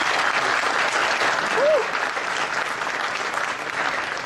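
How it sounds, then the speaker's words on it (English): Audience applause at the Nvidia CES 2014 press event, a steady, dense wash of clapping from a large crowd that holds at an even level throughout, with a brief tonal blip partway through. "give him a round of applause"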